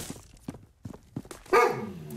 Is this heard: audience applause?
no